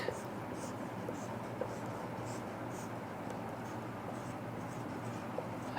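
A pen or marker writing out a carboxylic acid formula by hand during a chemistry lesson, a steady, soft scratching of strokes running through the whole stretch at low level.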